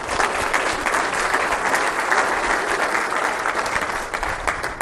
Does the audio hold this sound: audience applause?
yes